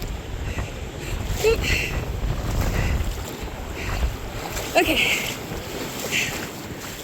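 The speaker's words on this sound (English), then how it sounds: "these waves are coming in." Ocean waves wash in over rocks on the Oregon coast, a continuous roar of surf and wind buffeting the microphone, with brief surges as water rushes in and a couple of short spoken words over it.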